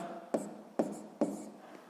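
Pen strokes writing numbers by hand on paper, three distinct scratchy marks in a steady rhythm, close and fairly quiet, with no talking.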